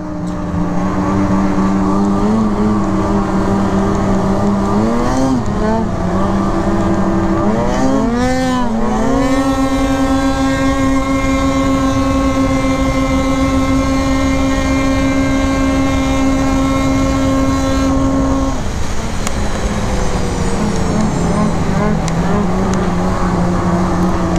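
Arctic Cat Riot snowmobiles ride across a frozen lake, a steady loud engine drone that rises and falls in pitch, revving up around the middle and holding a high sustained whine before easing back down.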